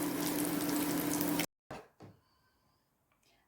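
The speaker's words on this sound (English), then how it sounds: "I finished frying my pancakes." Cottage cheese pancakes frying in a pan give a loud, dense sizzle for about a second and a half, then it cuts off abruptly to near silence with a few faint clicks and clatters.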